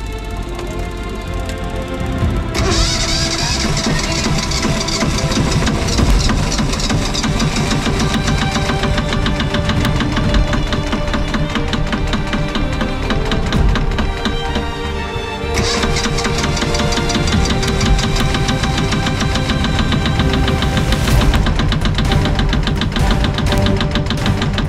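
A sailboat's engine cranks and catches after its alternator is reinstalled, then runs with a loud, steady rhythmic knock close by, briefly surging before settling into a continuous idle.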